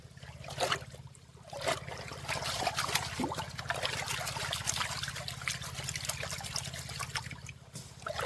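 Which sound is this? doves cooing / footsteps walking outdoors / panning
panning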